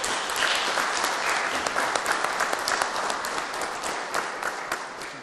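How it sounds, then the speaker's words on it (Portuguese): A warm salvo of applause at a municipal truth commission hearing in Joinville, many hands clapping densely and steadily for several seconds, filling the hall at even loudness. "gostaria de pedir agora uma salva de palmas"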